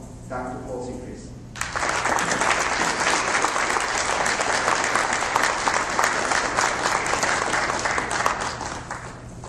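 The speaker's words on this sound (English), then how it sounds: "please help me with a round of applause to welcome Dr. Paul Sechrist" Steady, full audience applause welcomes Dr. Paul Sechrist, president of Oklahoma City Community College, at an induction ceremony, beginning after a brief voice and continuing as a dense, even roar of clapping hands.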